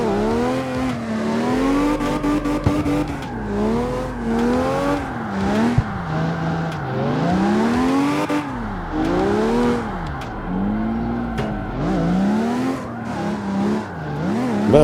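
A V12 drift car in CarX Street revs and slides, its engine note climbing and falling in repeated waves while tires squeal through long drifts, loud and continuous without talk.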